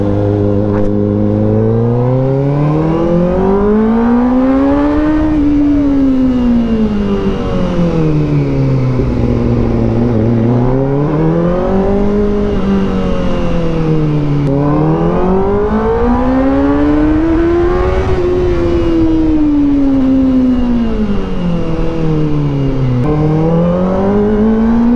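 A 2025 Kawasaki ZX-4RR 400cc inline-four sport bike fitted with an Akrapovic exhaust, loud and close, revs up and down in repeated waves between idle and a high-pitched scream, with no talking.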